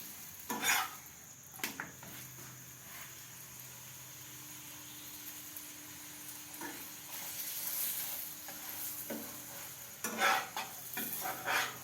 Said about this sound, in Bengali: এরপর আমি একটু তেল দিয়ে ভেজে নেবো